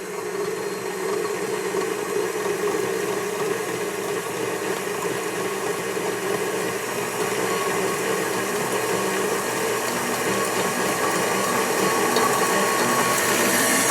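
Electric mixer whipping eggs and sugar on high for a pumpkin roll, a steady close motor whir that holds unbroken and even throughout with no talk.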